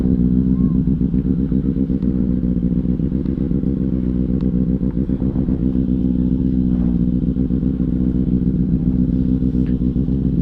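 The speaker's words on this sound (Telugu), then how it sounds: "చాలా రేర్ బైక్ ఇది, గుర్తుపట్టరే బైక్ ఏదో 400. బట్ ఎగ్జాస్ట్ వేసిండు దానికి" A rare 400cc motorcycle fitted with an aftermarket exhaust idles and revs with a loud, steady, throbbing engine note that stays close throughout, with faint clatter in the background.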